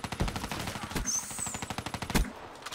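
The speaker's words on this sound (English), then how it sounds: "That was a really bad shot." Rapid automatic gunfire in the video game Black Ops 3, a fast rhythmic stream of close, loud shots with a few heavier bangs, continuous through the clip with no talking.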